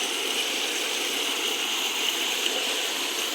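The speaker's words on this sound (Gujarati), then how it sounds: "આવી ગયું પાણી" Water gushes steadily from a farm pump outlet, a continuous broadband rushing flow close by and fairly loud, unbroken for the whole stretch with no talk.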